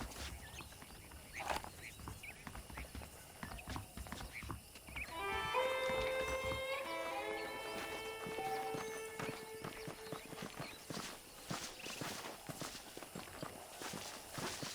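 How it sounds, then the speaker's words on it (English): Saddled horses in the Western video game Red Dead Redemption clop along at a steady walking rhythm, moderately close, with game music and ambient sound layered over the hoofbeats. "The horses are saddled up over here."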